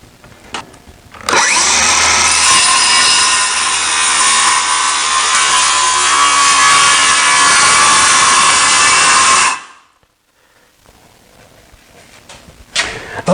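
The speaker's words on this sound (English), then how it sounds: "I'm going to cut it with a skill saw." A circular saw rips corner to corner through a teak board, one loud, steady cut lasting about eight seconds, followed by the blade winding down and a short quiet spell.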